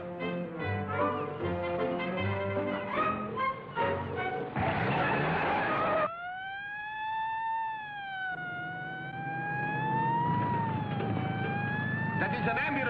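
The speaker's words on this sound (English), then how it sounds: "That is an ambulance siren." An ambulance siren wails up and down in long smooth sweeps, fairly close, after a stretch of music and voices.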